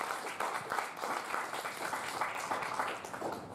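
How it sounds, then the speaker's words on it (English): An audience at a project presentation event claps steadily in a continuous wash of applause that stays fairly even in level for a few seconds. "please give a big round of applause for AIMD again"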